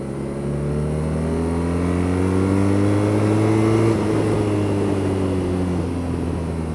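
A 2014 BMW R nineT boxer twin motorcycle under way, its engine droning steadily and rising in pitch through acceleration, easing briefly mid-run, then pulling on again, loud with steady wind rush and no talking.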